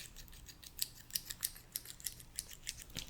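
A tiny pair of scissors opens and closes up close, a quiet run of crisp metallic snips and clicks in an uneven rhythm, about a dozen in all.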